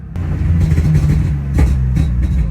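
In a video game, a straight-piped BMW E36 M3 rumbles close by with a deep exhaust drone. A few sharp backfire pops break through over the short run.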